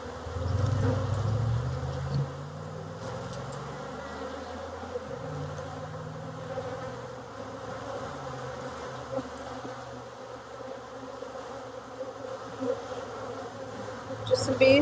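Honey bees buzz continuously around an open hive in Tennessee, a dense close hum with individual bees droning past the microphone, and a few faint handling noises throughout.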